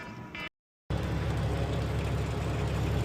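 A semi truck's engine turns over and settles into a steady, loud idle close by after a brief silent gap, with no talk over it.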